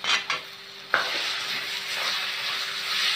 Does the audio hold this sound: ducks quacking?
no